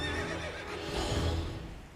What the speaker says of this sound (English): A neigh?